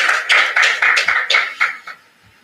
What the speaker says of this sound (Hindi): सभी तालियों से उनका स्वागत।